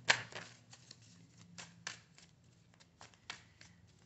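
Tarot cards are shuffled in a quiet room, with soft riffling bursts and light tapping at an irregular rhythm, close and faint.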